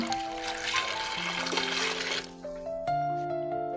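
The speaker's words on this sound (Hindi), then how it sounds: "थोड़ा सा पानी डाल के इसको हम उबाल लेंगे ना।" Water pours and trickles into a pot of whole spices for aloo gosht in a steady stream, with tonal ringing as the vessel fills.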